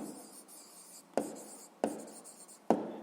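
Pen scratching steadily on paper as answers are written down in a sixth-grade maths exercise, a continuous close scribble broken by three sharp taps of the pen, with no talking.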